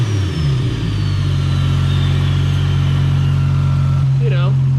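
A Toyota 2JZ-GTE engine with a GTX35 turbo idling loudly and steadily right after a revved start, a deep constant drone with a thin whine sliding downward, close up.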